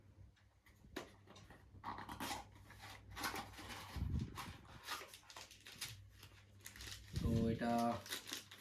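Plastic packaging crinkles and rustles in bursts as DJI Action 2 camera accessories are unpacked, close and moderately loud, with a person talking over it.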